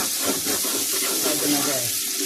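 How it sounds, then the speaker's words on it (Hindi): Masala and tomato sizzling in a pan for chicken nihari, a steady close frying hiss with faint stirring, alone without talk. "तकरीबन 2 से 3 मिनट हम इसे भूनेंगे।"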